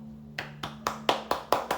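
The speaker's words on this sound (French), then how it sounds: "Et ça, j'applaudis." A single person claps hands about seven times at an even, unhurried pace, each clap sharp and fairly close, over a faint steady hum with no talking.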